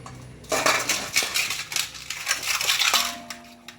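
Metal dishes and pots being picked up and handled in a home kitchen, clattering and clinking in quick irregular bursts, close by, with no one talking.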